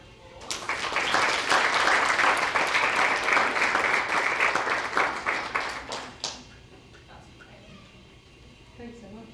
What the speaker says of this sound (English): if you'd like to just give her another round of applause